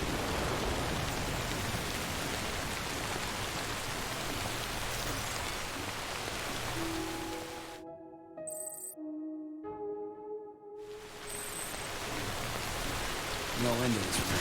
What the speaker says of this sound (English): No end to this rain.